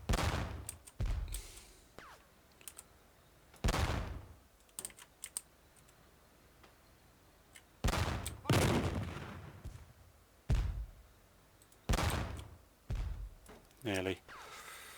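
World War II gunfire from the strategy game Theatre of War 2 cracks in sharp, loud bursts and rattles, separated by brief pauses, with keyboard clicks mixed in.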